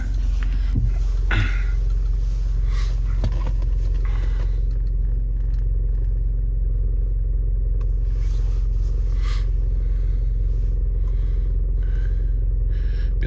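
An Opel Vectra C with a fault that leaves it unresponsive to the accelerator sits at idle, a loud steady low rumble with a few light clicks and handling noises early on, no talking.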